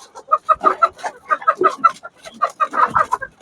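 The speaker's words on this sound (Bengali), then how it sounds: "এখানে মুরগি মোরগও আছে" Farm chickens and roosters clucking close by in a poultry farm selling Fayoumi, Sonali and native birds, a busy run of repeated clucks and short calls in quick bursts.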